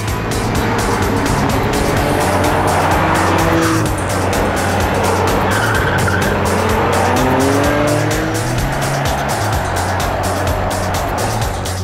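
A Porsche Macan SUV with all-wheel drive and air suspension, driven hard through curves in Sport Plus mode, engine loud and steady up close, with rising and falling gear tones and tire noise, no speech.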